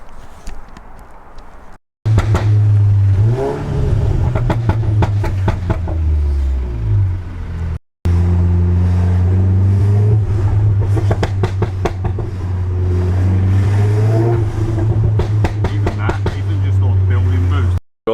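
A SEAT Leon Cupra with a stage 2 remap and added overrun revs hard, its engine note rising and dropping repeatedly with crackling pops on lift-off, loud and close, broken by short cuts of silence.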